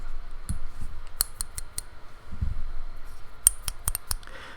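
Sharp plastic clicks and knocks in small clusters, with a few quiet gaps between bursts, close up and fairly soft.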